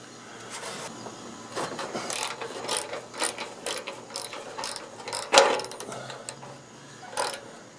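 A ratchet socket wrench loosens bolts on the radiator support of a 1956 Ford Fairlane, with repeated short bursts of close, sharp clicking and pauses in between.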